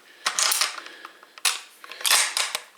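Bolt action of a Remington 788 centre-fire rifle with nine rear locking lugs being worked: a quick run of sharp, close metallic clicks and clacks in bursts, loud and dry.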